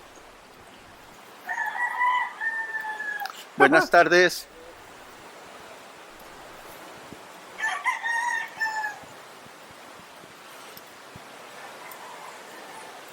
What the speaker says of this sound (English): there are plenty of roosters.